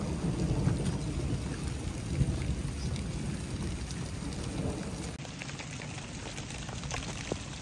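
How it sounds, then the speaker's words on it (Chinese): Rain falling on a rural mountain village, a continuous soft patter and hiss of drops with low rumbling undertones, fairly faint and steady throughout. "现在下雨了。"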